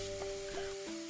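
Country sausage fries in a cast iron pan over medium heat, a steady quiet sizzle with faint stirring clicks as the meat is broken up.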